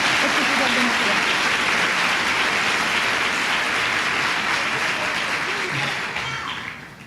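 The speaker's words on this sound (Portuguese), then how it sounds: "O dia aplaude Jesus com força." A church congregation claps strongly for Jesus during a sermon, a dense, loud and steady wash of applause that stays even and then tapers slightly toward the end.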